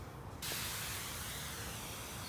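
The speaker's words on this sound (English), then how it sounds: "I'm just gonna go ahead and start spraying" A herbicide sprayer mists weeds on a Bermuda grass lawn, starting after a brief quiet moment and then holding a steady, close, continuous hiss.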